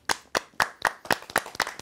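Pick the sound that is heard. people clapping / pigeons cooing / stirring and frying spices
people clapping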